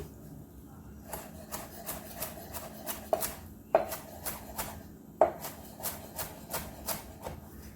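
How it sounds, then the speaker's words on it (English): A knife chops parsley on a cutting board in close, quick rhythmic strokes, a few landing noticeably harder than the rest. "I'm just gonna chop my parsley"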